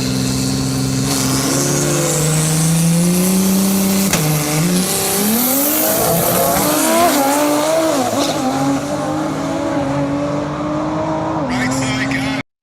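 Drag racing cars make a no-prep run, engines roaring loudly and continuously as they rise and shift in pitch through acceleration, with tire squeal mixed in; no talking.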